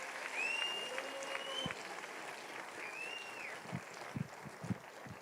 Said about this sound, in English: will you please give them a big round of applause?